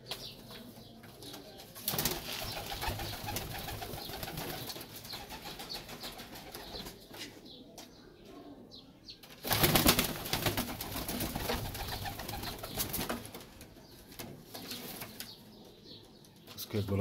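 Racing pigeons kept for pigeon sport coo softly and flap their wings in a loft, with occasional louder bursts of wingbeats amid steady background noise and some faint talk.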